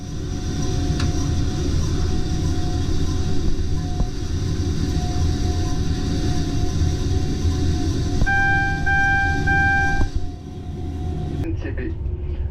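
A Ouigo train pulls out of Paris Nord with a low, steady rumble of the carriages, a Class 18 locomotive at the rear, and a few brief tonal chimes or squeals as it moves off.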